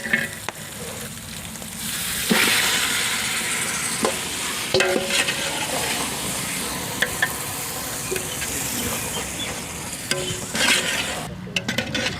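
Masala and spices deep-frying in a pan for chicken biryani sizzle loudly and steadily, with frequent stirring clinks and scrapes against the pan over the whole stretch.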